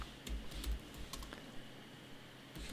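Soft, rapid keystrokes tapped on a computer keyboard in a quiet room, an irregular patter of clicks with no one speaking.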